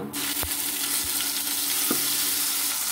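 Spices frying in a pan for a winter mixed vegetable curry of radish and carrot, a close continuous sizzle with a few sharp stirring scrapes, no voices.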